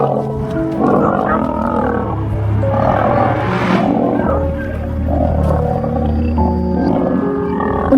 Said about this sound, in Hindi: उनके दहाड़ने की आवाजें दिल दहला देने वाली थीं।